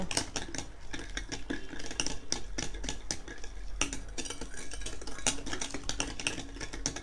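A spoon stirs cake mixture for a Swiss roll in a bowl with gentle, steady scraping and clinking, close and continuous without a break.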